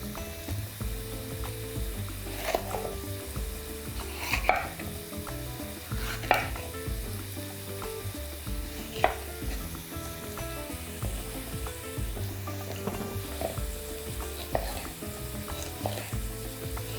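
Chopped sweet red peppers and hot green peppers frying in a pan, a continuous close sizzle broken by several stirring scrapes and knocks.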